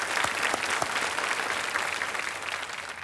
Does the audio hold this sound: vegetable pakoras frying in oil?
no